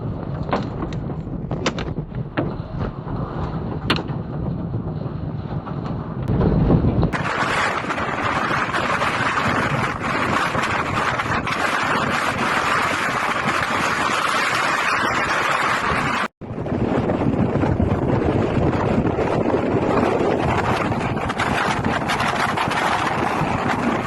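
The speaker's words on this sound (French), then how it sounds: "Elle montre une énorme tempête qui s'éloigne de Tennessee" Violent storm wind roaring in Tennessee, a dense, continuous rush that buffets close and loud after a brief quieter start, with a sharp cut partway through, no voices.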